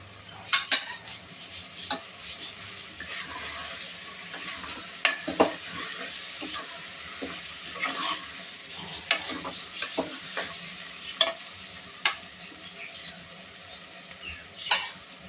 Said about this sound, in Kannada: ಈಗ ಅದು ಕೊತ್ತಂಬರಿ ಮತ್ತು ಪುದೀನ ಕಟ್ ಮಾಡಿ ಇಟ್ಕೊಂಡಿದ್ನಲ್ಲ ಅದು ಹಾಕ್ತಾಯಿದ್ದೀನಿ